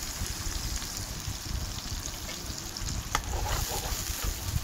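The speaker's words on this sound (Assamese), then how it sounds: "এতিয়া মই পিয়াজ দিম পিয়াজ তেলত দি দিছো" Onions fry in oil with an even, close sizzle and light crackling, while soft stirring rustles run underneath and no one speaks.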